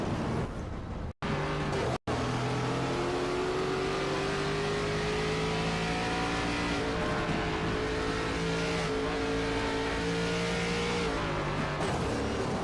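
A video game ARCA race car engine at Bristol holds a steady high throttle drone, its pitch slowly shifting, loud and continuous with brief cutouts near the start.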